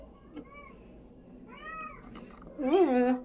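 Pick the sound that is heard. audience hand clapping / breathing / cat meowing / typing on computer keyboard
cat meowing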